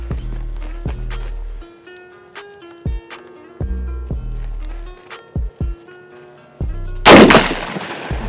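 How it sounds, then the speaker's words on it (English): Rifle shots on an outdoor range, a series of sharp loud cracks spaced by short pauses, with a burst of noise near the end. "slowly squeeze the trigger"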